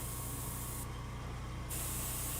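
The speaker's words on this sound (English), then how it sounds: "I'll spray on the other side." A short burst of aerosol spray paint hisses up close, pausing briefly in the middle and then resuming, as the other side of a Space Marines Vindicator miniature is coated.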